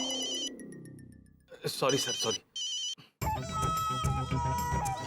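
A telephone ringtone plays at the start as a falling melodic tone, then bright repeated ringing bursts sound in the office of a Hindi sitcom scene, with someone speaking over it and background music continuing loud.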